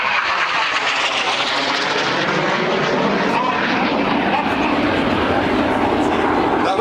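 Red Arrows jets flying a display formation over Bristol make a continuous, loud, broad roar that holds steady and full throughout, with a voice faintly audible beneath it.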